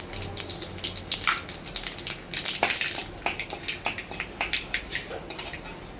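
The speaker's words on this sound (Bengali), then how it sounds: "তো তেল গরম হয়ে গেছে, এবার আমি কালো জিরে শুকনো লঙ্কা দিয়ে দেবো।" Black cumin and dried chillies are dropped into hot oil in a home kitchen, giving a busy crackle of sizzling and spitting with clinks of a utensil against the pan, close and steady, with no talking.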